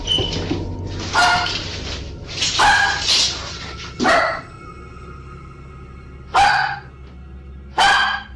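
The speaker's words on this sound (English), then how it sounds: "Her dog sensed something was wrong and started barking loudly, more aggressively than ever before." A dog barks loudly in separate sharp bursts, five or six barks with uneven pauses, close and aggressive, over a low quiet background.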